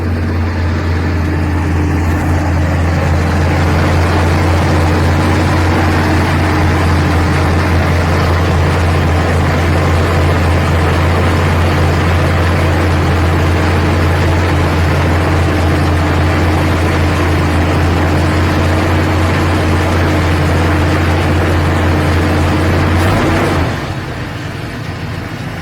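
A carbureted engine runs steadily and loudly at a constant drone during winter carb tuning, then drops abruptly toward idle near the end.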